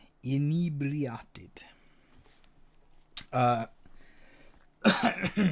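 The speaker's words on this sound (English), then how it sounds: "I can't stop clearing my throat." A person recovering from a cold clears their throat and coughs in short rough bursts separated by quiet pauses, close to the microphone.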